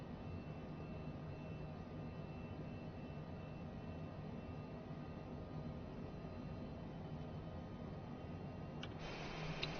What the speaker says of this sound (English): Beautiful airplane on approach into Topeka Regional. Here in our Cessna Citation Longitude.